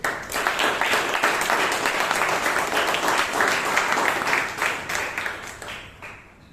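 Warm, steady applause from a Toastmasters meeting audience welcoming a speaker, dense and sustained for several seconds before tapering off at the end.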